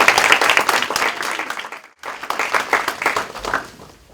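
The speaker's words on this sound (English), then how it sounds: "Let's give him a round of applause." An audience at a live author presentation and Q&A applauds a student ambassador walking to the podium, with loud, dense clapping that briefly drops out and then resumes before tapering off.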